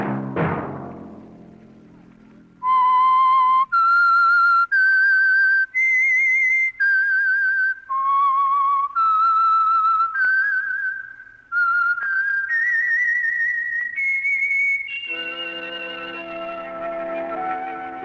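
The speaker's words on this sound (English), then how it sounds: "Let that whistle be your signal for the Whistler each Sunday night at this same time." A solo whistled melody, the theme of the Whistler radio drama, rings out clear and loud in a series of sustained, slightly wavering notes, preceded by a fading orchestral chord and followed by a swelling orchestral passage.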